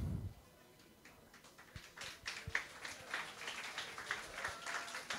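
Audience applause after a talk on social media marketing, a few scattered claps at first building into a moderate spread of clapping that continues steadily to the end, no voices over it.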